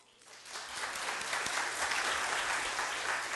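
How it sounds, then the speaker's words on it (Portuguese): Audience applause at an aeromedical symposium in Brazil as the president of an organization is welcomed, swelling quickly into a dense, even clapping from a sizable crowd and holding steady for several seconds. "eu gostaria de convidar com uma salva de palmas"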